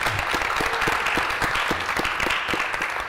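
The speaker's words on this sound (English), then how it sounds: "Can we get one more round of applause for our amazing panel?" A room full of attendees at a 2022 Boston economics symposium claps for a panel, a steady, dense round of applause with distinct individual claps and no talk.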